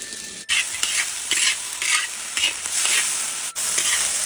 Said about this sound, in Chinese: 小鸡儿炒出香味